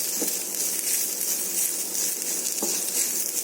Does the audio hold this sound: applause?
no